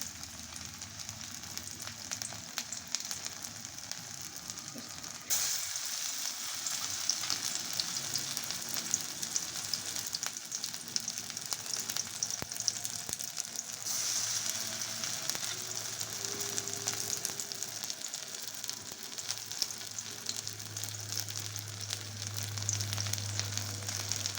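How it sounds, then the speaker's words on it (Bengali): Cabbage fritters frying in mustard oil give a steady, close sizzle that runs the whole time, with a louder crackle setting in after the first few seconds and no voices. "আমি সর্ষের তেল দিয়ে ভাজতেছি"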